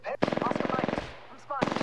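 Bursts of automatic gunfire from the Apex Legends video game crackle in two loud spells, overlapped by a person talking.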